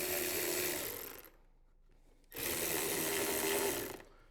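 Ratchet tightening a screw on the plastic air filter housing of a 2019 Sierra/Silverado 6.2L truck, two steady bursts of clicking close by, separated by a short pause.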